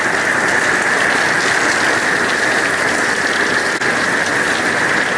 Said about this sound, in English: I don't mind having all the rain right now.